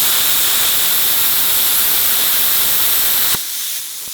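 A Best Arc BTC500DP 7th Gen plasma cutter cutting 10mm stainless steel produces a loud, steady roaring hiss that stops abruptly, leaving a fainter hiss of air tailing off.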